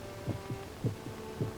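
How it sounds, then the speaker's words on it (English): A human heartbeat thumps in a slow, regular double-beat rhythm, with three soft, muffled pulses over a low hum and no voices. "almost in rhythm with the beating of his own heart."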